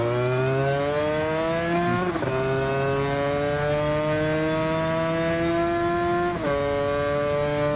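A 1998 Aprilia RS 125 motorcycle in the video game Ride 2 laps the Nürburgring, its engine droning loud and steady as revs climb, with two sharp gear-change dips before each new rise.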